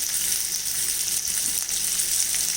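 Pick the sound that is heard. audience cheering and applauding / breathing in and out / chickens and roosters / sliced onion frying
sliced onion frying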